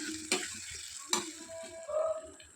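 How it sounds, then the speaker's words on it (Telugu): A spoon scrapes and stirs through thick gongura and green chilli chutney in a pan of tempering, a couple of sharp knocks against the rim over a soft, faint sizzle. "తాలింపులో చట్నీ ఒక్క నిమిషం పాటు ఉడికించుకోవాలి ఈ విధంగా కలుపుతూ ఉడికించుకుందాము"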